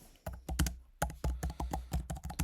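Quick taps on a computer keyboard, a close, quiet run of uneven clicks in short clusters with small pauses, no voices over them.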